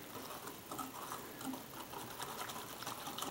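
Powdered sugar and cold milk being whisked by hand in a bowl for Kaiserschmarrn batter, a steady, quick scraping and clicking patter that runs on without pause at moderate, close volume, with no talking.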